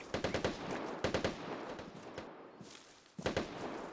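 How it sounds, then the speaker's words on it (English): Bursts of automatic gunfire from a distant firefight in the video game Vigor crackle in quick rapid volleys, pausing briefly before another short burst starts. "Yeah, that gunfight's still going on too."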